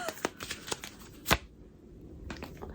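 A deck of cards is riffled and bridged up close, with a series of quick flutters followed by a sharp final snap and a brief rustle afterward.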